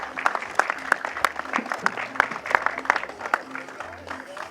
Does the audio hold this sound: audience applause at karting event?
yes